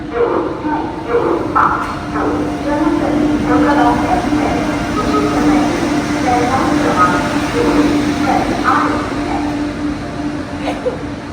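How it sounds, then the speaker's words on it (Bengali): A train rumbles steadily with a low mechanical hum as it rolls into platform 1 at Ayodhya Dham railway station, while voices talk over the noise throughout. "আমাদের ট্রেন ঢুকছে অযোধ্যা ধাম স্টেশনের 1 নম্বর প্ল্যাটফর্মে।"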